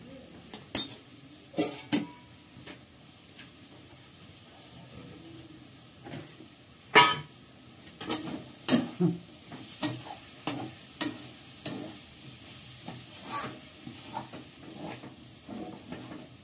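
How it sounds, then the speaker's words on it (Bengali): Cabbage being stirred in a pan with ghee, a spoon scraping and knocking against the pan in irregular clinks over a faint sizzle, growing into a steady rhythm of strokes. "এবার বাঁধাকপিটা নেড়ে চেড়ে নামিয়ে নেবো।"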